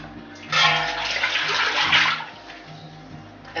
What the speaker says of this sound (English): I'm going to go ahead and get the ham broth in the pan